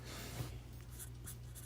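A name being handwritten during a trading card break gives a soft, faint scratching of pen on paper, with short strokes under a steady low hum.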